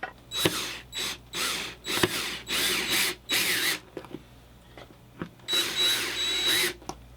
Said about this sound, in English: I'm going to go ahead and run the screws through the pilot holes that I've made to match it up with the holes that are already here.